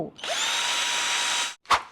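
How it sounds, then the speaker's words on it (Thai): An electric drill runs at full speed against a hard-shell suitcase for about a second and a half, loud and close, then cuts off, followed by a short sharp knock. "รีวิวกระเป๋าเดินทางที่แข็งแรงมาก ขนาดสว่านยังเจาะไม่เข้า"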